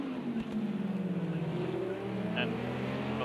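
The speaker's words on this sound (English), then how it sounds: "2 Lamborghinis running V10." Two Lamborghini V10 GT3 race cars in Project CARS 2 drone steadily together, their engine notes rising and falling in overlapping tones under a continuous loud racing roar.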